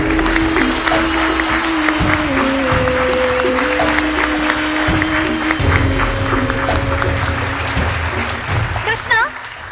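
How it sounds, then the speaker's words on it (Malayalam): A studio audience applauds to welcome the judges onto the panel of a Malayalam comedy stand-up TV show. The clapping is loud and continuous throughout, with music sounding underneath it. "വലിയൊരു കൈയടി കൊടുത്തുകൊണ്ട് അവരുടെ ജഡ്ജിംഗ് പാനൽ സീറ്റിലേക്ക് സ്വാഗതം ചെയ്യാം"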